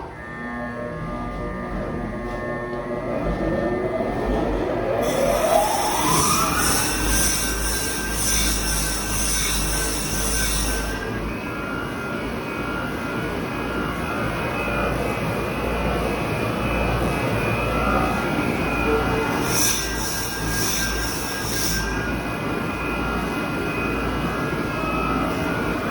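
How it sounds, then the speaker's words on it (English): A tube deburring machine for stainless steel tubing runs with a steady, loud mechanical whir and hum that continues without a break, with no talking. "That's a tube deburring machine."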